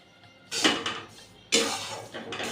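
Rice flour tipped into a hot dry wok for pitha, heard as two bursts of scraping and clattering against the metal pan, close and fairly quiet.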